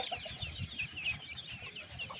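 Chickens cluck faintly around a chick caught in a net, soft irregular calls scattered through low background noise with no talking.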